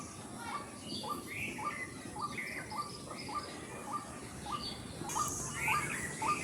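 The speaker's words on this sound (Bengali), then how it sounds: "এই একটা পাখি গাইস, যার এত জোরে আওয়াজ, আমরা এটাকে ডাক পাখি বলি" A jungle bird known locally as dak pakhi calls in the evening, a series of sharp, rhythmic notes repeating about twice a second at a moderate distance, with voices faintly in the background.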